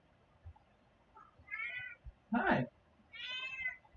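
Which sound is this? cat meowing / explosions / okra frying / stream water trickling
cat meowing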